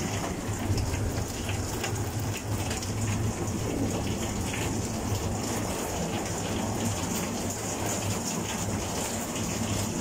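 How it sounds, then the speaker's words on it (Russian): Heavy rain pours steadily and densely throughout during a summer storm in Komsomolsk-on-Amur, a constant loud wash with no pauses. "вроде стихает дождь, переходит в обычный ливень"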